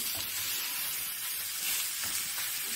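Pork rib pieces fry in a very hot pan for a Chinese-style caramelised dish, giving a steady, bright sizzle with soft crackles throughout.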